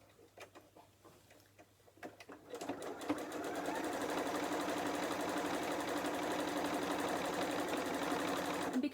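A sewing machine stitches a fat quarter book cover. It starts with a few soft clicks and handling noises, then settles into a steady, fast, close mechanical whirr that runs to the end with no talk.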